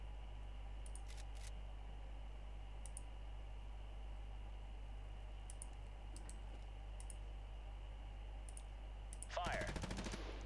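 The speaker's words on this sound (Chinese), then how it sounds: "看步枪能不能打？" Rifle gunfire in a video game, a rapid burst of sharp cracking shots at the very end after a long stretch of steady hum and a few faint isolated clicks.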